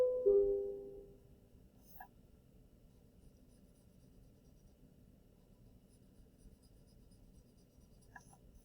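A yellow marker is drawn around an edge on paper, giving a soft, continuous scratchy stroke close up. A brief louder squeak comes at the start, and the room is quiet with no talking.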